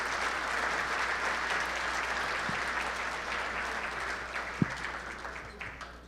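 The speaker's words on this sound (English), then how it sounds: "How about a big round of applause for Jen and her staff from Shenanigans?" Banquet audience at a sports hall of fame induction dinner claps steadily for the catering staff, a broad even roar of many hands lasting throughout with one or two sharper thumps near the end.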